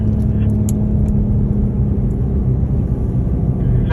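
Cars drive through the exit of a race track, making a steady, loud engine rumble that holds at the same level throughout.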